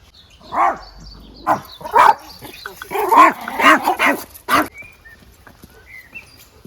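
A dog barks repeatedly and fairly close during a walk through a tree-lined residential street, with irregular bursts of barks and yips over light outdoor background noise.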